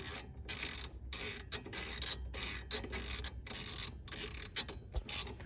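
A hand ratchet works a long bolt, roughly 1.5 to 2 inches, loose during a BC Racing coilover install, giving steady repeated bursts of clicking pawl ratchet strokes, close and fairly loud, with no talking.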